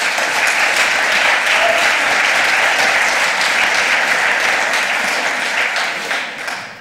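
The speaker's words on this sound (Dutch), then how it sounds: "Ik zou daar best een applaus voor geven." Sustained audience applause at a Dutch children's literature award ceremony, dense and steady throughout at full strength, tapering slightly at the very end.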